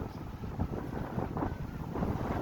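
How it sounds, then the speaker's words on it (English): Strong wind gusts across a microphone outdoors by the water where windsurfers ride, a steady broadband roar with rumbling buffets and no talking. "there's a lot more wind"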